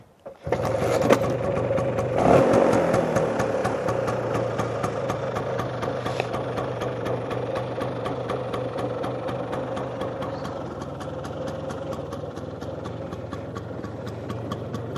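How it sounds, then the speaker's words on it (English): An LML Star Deluxe 2T two-stroke scooter engine starts and settles into a steady, close idle, with a buzzy throb that continues evenly throughout with no talking. "I'll start the engine up one more time."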